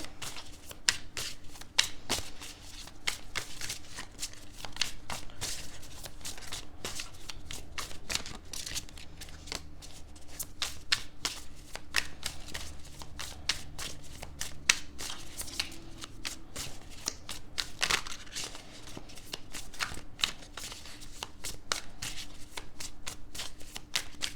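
Tarot cards riffle and shuffle continuously, crisp rapid flutters and slaps close by, with no one talking.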